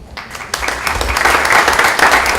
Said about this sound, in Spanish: Nos recibimos con un caluroso aplauso